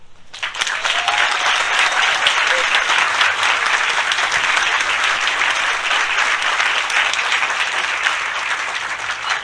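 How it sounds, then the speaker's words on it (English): A crowd applauding at a groundbreaking ceremony: loud, dense, steady clapping that swells quickly and holds for several seconds, close and continuous. "I do want to extend another round of applause and gratitude to Gwen"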